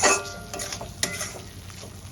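Fried potatoes being stirred and sautéed with spices in hot oil for a vegetarian chhanar dalna, with soft scraping strokes and light sizzling, a couple of sharper utensil knocks against the pan.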